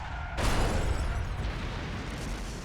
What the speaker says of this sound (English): Yeah, the explosions maybe a bit...